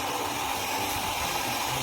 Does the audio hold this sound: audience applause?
no